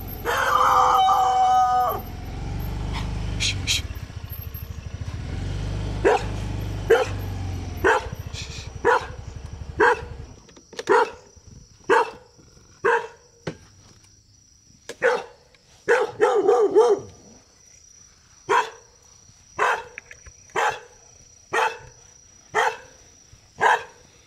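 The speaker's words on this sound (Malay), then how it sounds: "Waduh, ada anjing pula" A dog barks outdoors at night near a village house, a long series of sharp single barks at an uneven but steady pace, preceded by a low rumbling passage, with faint insect or cricket trills in the background.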